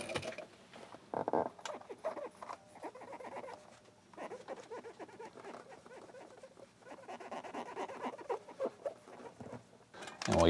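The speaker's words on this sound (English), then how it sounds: "we'll just rub this with a dry one of these Q-tips or cotton swabs" A dry cotton swab rubs polystyrene residue off a cord, giving soft, close scratchy squeaks and patters in irregular bursts, faint between strokes.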